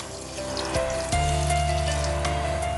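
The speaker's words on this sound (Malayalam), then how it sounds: "4 കപ്പ് വെള്ളം ഒഴിക്കാം" Water poured from a vessel into a cooker for ghee idli, a short steady gushing pour with a shift in pitch partway through, close and clear with no voices.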